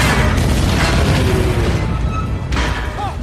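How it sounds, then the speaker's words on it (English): A giant cannon blast sound effect: one loud, deep booming burst fills the moment and rolls on with a heavy rumbling tail, briefly dipping and surging again near the end. "I'm gonna blast huge holes through the bottom of that boat with this giant cannon."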